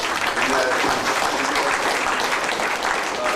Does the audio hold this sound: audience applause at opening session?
yes